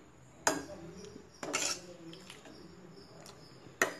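A ladle stirring dal (lentils) in a boiling pot, with three or four sharp metallic clanks against the vessel spaced out over quiet simmering background.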